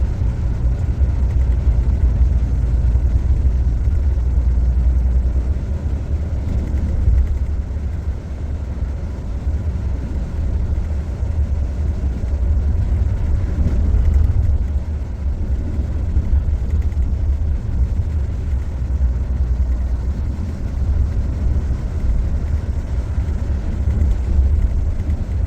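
A Hanif Volvo bus drives and overtakes on a wet highway with a continuous low engine and road rumble inside the cabin, steady and loud with slight swells and no talk.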